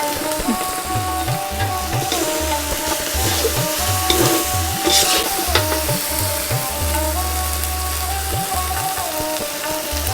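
A broiler chicken bhuna masala sizzles loudly and steadily in the pot while broth is added and stirred in, with dense crackling throughout and a low rhythmic hum underneath. No voices are heard.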